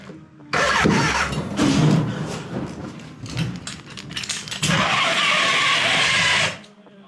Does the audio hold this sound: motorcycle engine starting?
yes